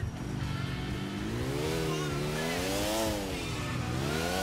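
A motorcycle engine in GTA IV revving and accelerating up close, its pitch rising and falling continuously as it speeds along, loud and steady with no voices over it.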